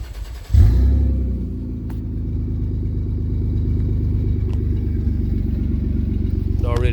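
Toyota Supra MK1/MK2 swapped with a JZ engine cranks and fires up, settling into a loud, steady close-up idle rumble with a faint rising rev near the end.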